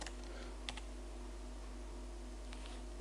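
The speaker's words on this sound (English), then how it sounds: "but actually if I type" Soft, steady keystrokes of a search being typed on a computer keyboard, a few sharper clicks standing out over a low constant hum, with no one talking.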